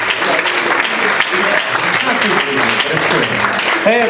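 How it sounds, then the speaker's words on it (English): Loud, dense audience applause at a comedy club, Carolines, as comedian David Jackson comes on stage, mixed with cheering voices and crowd chatter throughout. "Please clap it up, Mr."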